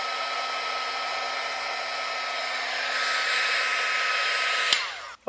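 A mini heat gun for shrinking heat-shrink tubing blows hot air in a steady, close, hissing whoosh with a faint tonal hum that strengthens midway, then cuts off with a click near the end.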